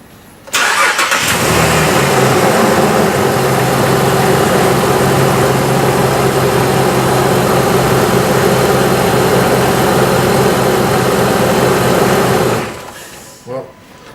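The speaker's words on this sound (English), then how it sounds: "engine's running on all 6 cylinders, running smooth" A Jeep Cherokee with a newly replaced ignition coil starts up and settles into a steady, smooth idle on all six cylinders. The engine is loud and close and runs alone for about twelve seconds before shutting off.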